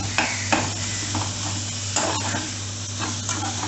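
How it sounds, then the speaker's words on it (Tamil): Turmeric, chilli and coriander powders with salt sauté in oil for vadacurry, giving a steady close sizzle with light stirring scrapes and small taps, and no talking. "பொடிகளோட பச்சை வாசனை போகிற அளவுக்கு வதக்கிக்கணும்"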